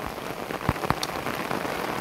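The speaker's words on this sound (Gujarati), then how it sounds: "બહુ વરસાદ ચાલુ છે અહીંયા તો" Heavy rain pours down steadily outdoors, a dense, even hiss of drops striking surfaces for the whole stretch, with a couple of slightly sharper splashes standing out.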